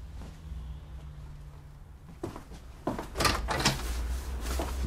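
Indoors, a door is shut with a couple of soft knocks and then a firmer thud over a low room hum; no one speaks.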